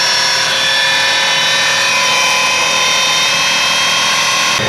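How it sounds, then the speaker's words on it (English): A homemade angle-grinder electric outboard motor on a boat, running on 24 volts, gives off a loud, continuous high-pitched whine that stays steady at close range throughout. "Angle grinder."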